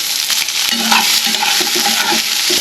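Chopped onion tossed into hot oil with browned panch phoron, frying loudly with a dense, continuous sizzle and steady stirring scrapes close up.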